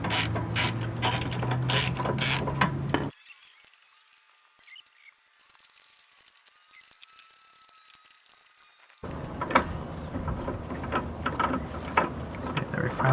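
A ratchet works loose a 17 mm shock bolt on a lifted Mazda Miata, giving bursts of quick close clicking that drop out for several seconds in the middle, then resume with a clattering mechanical rattle.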